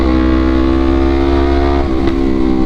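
A Honda CBR250RR motorcycle engine drones steadily while riding, a loud, constant high-revving whine with strong tonal harmonics and a slight dip near the end, without any voices.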